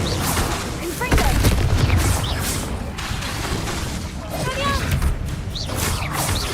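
A Confringo fire blast spell cast in Hogwarts Legacy, heard as a sharp booming burst among other combat spells, with crackling impacts, shattering debris and a voice speaking throughout.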